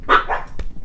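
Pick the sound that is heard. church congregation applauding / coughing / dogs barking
dogs barking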